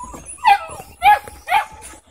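Labradoodle puppies yip and whimper close by in three high bursts about half a second apart, with soft squeaks between.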